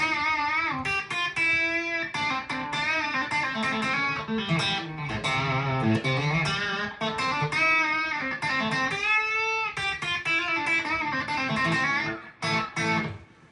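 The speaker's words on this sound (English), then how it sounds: "I'm going to start out with a lower gain." An electric guitar plays through a Marshall-style distortion pedal set to lower gain, producing a continuous crunchy sequence of chords and notes with brief pauses between phrases.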